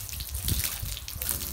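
Water running steadily over a homemade backyard waterfall, a close, continuous splashing gush.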